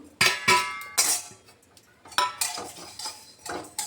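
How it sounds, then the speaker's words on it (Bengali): Spices, including dried red chillies, rattle and scrape as they dry-roast in a pan stirred by a metal spoon, producing irregular clinking bursts with short quiet gaps. "এটা আমি শুকনো খোলায় ভেজে নিচ্ছি।"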